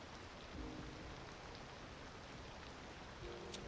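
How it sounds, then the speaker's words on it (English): Steady rain in the city-builder game Cities: Skylines II, a soft, even hiss of falling rain that fills the whole stretch at low volume with no talk. "Just a rainy day."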